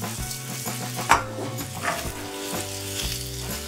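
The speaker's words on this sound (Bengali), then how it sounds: "এবার এর মধ্যে ভেজে রাখা উচ্ছেটা দিয়ে দিচ্ছি, আর হাই ফ্লেমে 2 মিনিট নাড়াচাড়া করে নেব।" Bitter gourd and pumpkin stir-frying in a pan on high flame, a continuous close sizzle with occasional scraping and clinks of a spatula against the pan.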